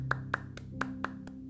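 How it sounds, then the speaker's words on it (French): A steady series of about six sharp hand claps, evenly spaced, rings out over a soft tonal music bed, suggesting a small burst of applause for a finished game rather than a full crowd. "Applaudissements."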